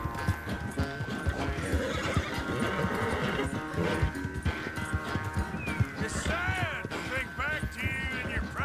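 Horse galloping in the video game Red Dead Redemption 2, rapid drumming hoofbeats over dusty ground with loud snorts and a whinny, mixed with in-game ambience and brief voice lines, continuous and close throughout.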